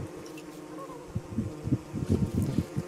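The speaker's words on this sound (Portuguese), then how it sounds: "surgiu uma ninhada de abelha que não quer me deixar quieto." A swarm of bees buzzing in the video game Don't Starve Together, a low droning hum that pulses in uneven bursts, growing busier toward the end over a steady game backdrop.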